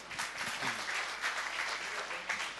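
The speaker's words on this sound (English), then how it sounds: "Clap." An audience claps steadily for a couple of seconds at a talk, dense sustained applause with no voices over it.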